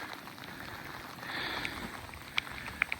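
Heavy rain falls near an erupting volcano in Iceland, a steady soft hiss of rainfall with a few sharp drop taps on a nearby surface, fairly faint throughout.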